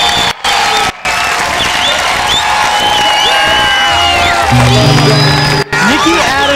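Large crowd at the 1999 Summer X Games aggressive inline street finals cheering, whooping and applauding loudly and continuously, with a few brief dropouts and some tonal sounds near the end.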